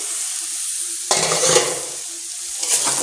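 Carrots are stirred and fried in a pan with beans and potatoes, giving a steady sizzle that grows louder and busier with scraping stirs partway through, close up and with no voices.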